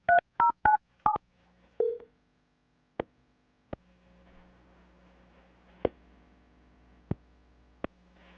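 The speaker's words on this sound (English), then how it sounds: "Adam, I'm about to get her on the phone" Telephone dialing: a quick run of touch-tone beeps, then a faint line hum broken by sharp clicks and ticks as the call connects, close and quiet with no talking.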